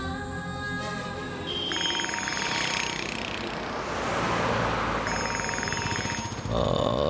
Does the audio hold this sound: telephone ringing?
yes